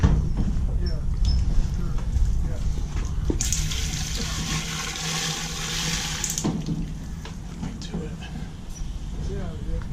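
A garden hose sprays water into a plastic water filter housing to rinse out dirt, a loud hissing gush for a few seconds in the middle, with voices talking and background noise before and after.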